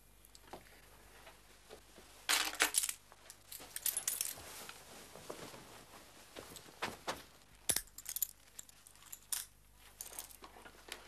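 Keys jangling during a store robbery at a house, scattered metallic clinks and rattles in several short bursts against a quiet room, fairly close.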